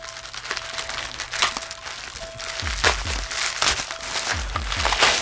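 Crinkling plastic and cardboard crackle as a sealed box from a horror movie haul is cut open, with repeated scraping cuts and rustles growing louder over the stretch.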